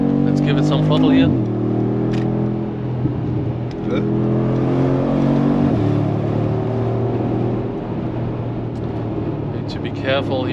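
A Brabus G700 G-Wagon engine revs under throttle on the Autobahn, a loud, steady low drone with rising harmonics, while a person talks over it throughout.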